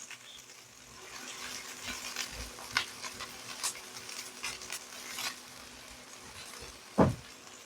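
Onion lightly frying in oil in a pan for spring rolls, a quiet low sizzle with scattered soft stirring scrapes and one sharper clank near the end, close and alone.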